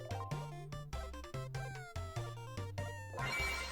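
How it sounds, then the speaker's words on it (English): A petted cat in a roguelike autobattler video game meows repeatedly over a bouncy musical backing, the short chirpy game-style meows coming in quick succession and sitting fairly quiet in the mix. "Pet the kitty."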